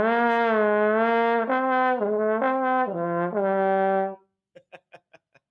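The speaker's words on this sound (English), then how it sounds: "you're going to get the slide or the glissando sound between your notes" A trombone plays a legato line without tonguing, the slide smearing a glissando between each sustained note over about four seconds, close and clear, followed by a few soft clicks.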